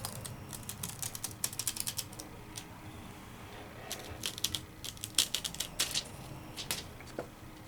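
Deco Foil being peeled back from a stamped image: a quiet run of faint crinkles and small crackling ticks, irregular and close, with several brighter bursts toward the middle and end.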